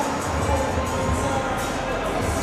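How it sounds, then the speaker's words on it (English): Crowd at a college volleyball match in Anaheim, USC against Cal State Fullerton, with a steady murmur of many voices and scattered cheering filling the arena. "Pretty good crowd here"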